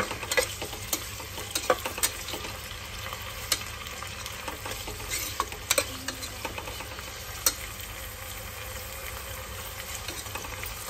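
Onions and green chillies frying for mutton curry, a continuous close sizzle with intermittent stirring clicks and scrapes of a spoon across the pan, no voices.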